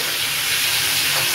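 Prawns lightly frying in hot oil in a pan, a steady close-up sizzle and hiss that holds evenly for a moment with no voices over it.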